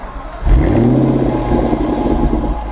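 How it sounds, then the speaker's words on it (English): Car engine cranking and catching at half a second, then a loud rising rev settling into a steady close idle rumble. "Should we start the engine now? Let's start the engine, get it warm."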